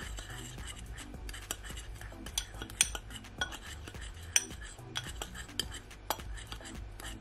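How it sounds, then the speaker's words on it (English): Spoon clinking and scraping against a bowl while seasonings are mixed together for one-pot Jamaican stew chicken and rice, a quick series of close, sharp taps over a quiet background. "Then I'm gonna mix all my seasoning together."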